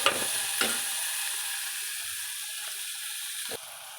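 Tomato pieces with turmeric frying in a pan for puri curry, giving a steady, moderate sizzle with faint stirring knocks at the start and near the end.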